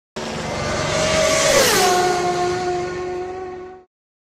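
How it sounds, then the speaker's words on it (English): A motorcycle engine roars past at speed, its steady pitch dropping sharply as it passes by, loud and close, then fading slightly away. "Because riders moving relatively fast towards you the motorcycle to you might sound something like this."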